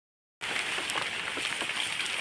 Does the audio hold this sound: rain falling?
yes